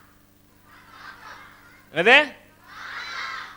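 A person at a Tamil community variety show imitates a crow's caw with the voice, one short harsh cry near the middle. Talk comes before and after it.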